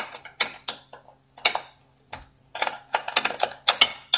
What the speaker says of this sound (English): And you use the wrench too,